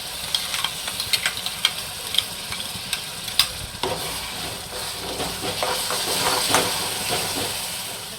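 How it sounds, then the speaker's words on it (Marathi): Raw ground masala paste for a tiger prawn curry frying in oil, with a continuous sizzle and hiss under repeated scraping stir strokes, close and steady with no talk. "हा कच्चा मसाला चांगला भाजून घ्यायचा आहे परतायचा आहे तेलामध्ये"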